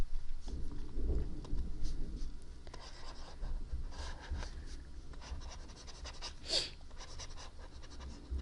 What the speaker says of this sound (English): So let me erase that part and start moving it to the right.